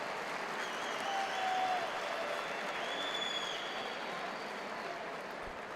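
Crowd applauding steadily at an MMA event in Beirut, Lebanon, a dense sustained wash of clapping from a large audience that swells slightly and then holds at a fairly even level throughout.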